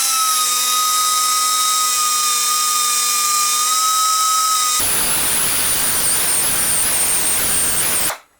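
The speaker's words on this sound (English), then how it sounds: "So I'll use my air belt sander here, and we'll reduce this width." A pneumatic air belt sander grinds down the width of a metal part for an air-over-hydraulic ram fitted to a cherry picker. A loud whining spin-up is followed by a harsh, steady grinding rasp that cuts off abruptly at the end.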